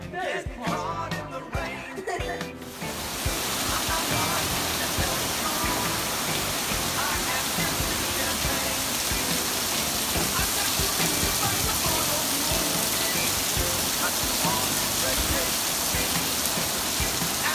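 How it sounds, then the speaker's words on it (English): Heavy rain pours down on a July vacation in Port Aransas, a dense, loud, continuous hiss that rises sharply after a few seconds of music and voices, then roars steadily and close to the end. "The sky has fallen out. It is raining hardcore."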